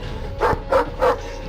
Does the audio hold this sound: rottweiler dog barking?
yes